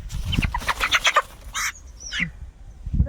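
A black-feathered (Kadaknath-type) rooster clucks and squawks nearby in short bursts, with a rising cackle, over faint background rustle.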